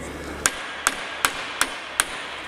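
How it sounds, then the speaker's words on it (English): A socket is tapped with a hammer to drive a U-joint cap down while the joint sits in a vise, giving five sharp metallic knocks at an even pace, close and clear over a quiet workshop background. "Just tap down with their socket"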